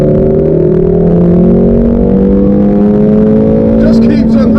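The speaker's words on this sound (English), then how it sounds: "Just keeps on revving as well." A Shelby GT350 or Ferrari 458 supercar on a Las Vegas drive, its engine revving continuously with rising pitch, loud and close from inside the cabin, with a brief burst of higher noise near the end.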